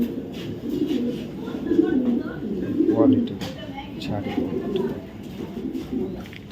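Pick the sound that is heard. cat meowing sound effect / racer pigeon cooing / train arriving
racer pigeon cooing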